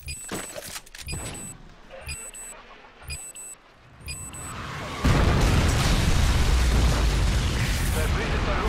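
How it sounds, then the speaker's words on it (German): A MOAB bomb detonating in a first-person shooter on the Village map: after a few game beeps and effects, a sudden massive boom erupts and rolls on as a sustained heavy rumble, loud and close. "Verbündete Moab kommt."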